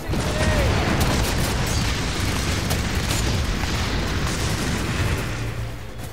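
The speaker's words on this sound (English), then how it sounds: "rockets!" Rocket explosions in the shooter game F.E.A.R. 3, a dense rolling barrage of loud booms and blasts that runs continuously and fades slightly at the end, with no speech over it.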